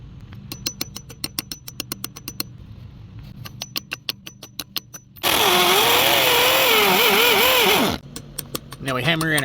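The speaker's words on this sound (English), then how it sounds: "We use our old Skeel hammer drill today, and we're putting us up a rail." Loud, steady whine of an old Skil hammer drill runs for a few seconds while drilling to mount a handrail, framed by rhythmic tapping and clicks before and after.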